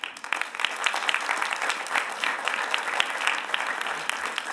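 An audience at a county State of the County address breaks into applause, with dense clapping and a few sharp individual claps standing out, steady and fairly loud throughout.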